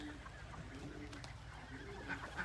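Pigeons coo softly at a chicken farm where chicks, hens and ducks are kept, a faint, distant murmur of bird calls against a low background hum.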